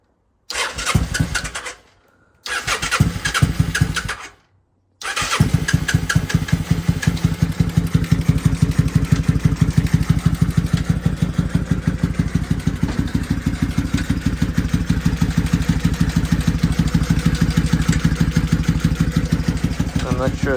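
A 2001 Kawasaki NV750 motorcycle engine cranks in two short bursts that fail to catch, then fires and settles into a steady, loud, close idle with an even rhythmic pulse.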